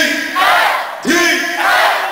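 A college concert crowd at Virginia Tech shouts back in call and response, two big roaring chants of many voices, close and loud, with a brief dip between them.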